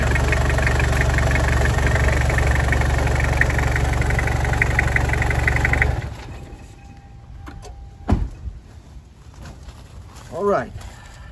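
Toyota Land Cruiser LJ78 with a 12T turbo diesel engine idling loudly and steadily, then shut off so the rumble drops away abruptly, leaving quiet with a few small clicks and knocks.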